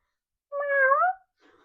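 A person's voice imitates a cat with a single drawn-out meow, clear and close, lasting well under a second, followed by a faint trailing sound.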